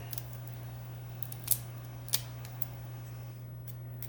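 Scissors snipping through a resin-coated material while making a replica clutch purse, giving a few sharp, isolated clicks against a steady low hum, the clearest two near the middle, with no talking.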